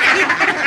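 Farm ducks let out a quick run of close, nasal quacks that rise and fall without pause, with no talking over them.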